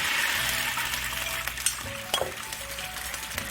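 Sauce hits a hot pan of lightly stir-fried vegetables for sweet and sour pork, giving a steady close sizzle with a few clinks of a utensil against the pan; no talk.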